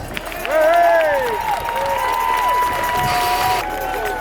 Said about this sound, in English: Give this man a massive round of applause.